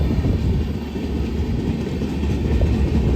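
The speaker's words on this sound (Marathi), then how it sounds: "आणि ट्रेन पण वाटतं आली" A train rolls past nearby near Badlapur with a continuous heavy rumble and faint rhythmic clatter, loud and steady throughout.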